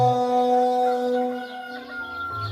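A human voice mimics a rooster's crow during a Marathi gaulan folk performance, a sustained, wavering call with strong harmonics that trails off, held for a couple of seconds without other sounds.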